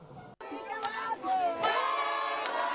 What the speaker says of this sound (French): c'est une foule immense qui l'a accompagnée jusqu'au centre d'identification et d'enrôlement